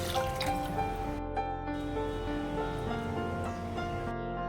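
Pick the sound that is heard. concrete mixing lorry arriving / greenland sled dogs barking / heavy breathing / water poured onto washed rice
water poured onto washed rice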